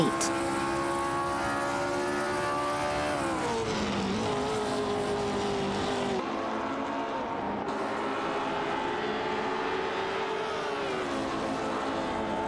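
A Matra MS7 and a Techno P68 race wheel to wheel in an AI-driven racing game, with loud, steady engine drones sliding up and down in pitch as they shift and brake, constant and close with no voices.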